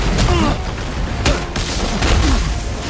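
Combat in God of War during a boss fight against an Asgardian: loud booming impacts and bursts of crashing hits over a churning soundtrack, with a few sharp strikes standing out, close and continuous.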